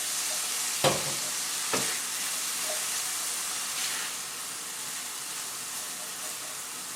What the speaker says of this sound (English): Okay, so I'm just going to quickly saute these.